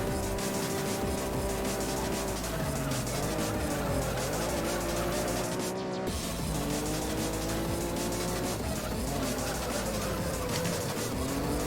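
A Honda NSX races in the Juiced video game, its engine droning loudly and continuously through rising and falling revs as the gears shift, with tires squealing through the corners.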